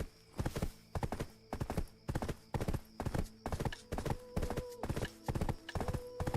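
Horse hooves clip-clop in a video game, a brisk, even stream of sharp clicks about twice a second, loud and close, with a faint whinny and some talk in the background.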